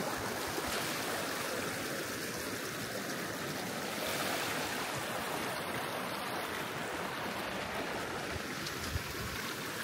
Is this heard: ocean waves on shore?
yes